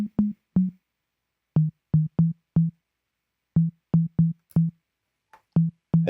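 Synthesized 808/909-style snare built in Serum, tuned near a low fundamental, hit repeatedly in short punchy bursts with brief gaps between groups, dry and close with no talking.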